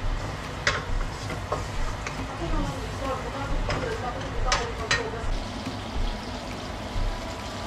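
Garlic sizzles in a pan as it is sautéed, a low crackling bed with a few sharp clinks from stirring, heard under a person talking.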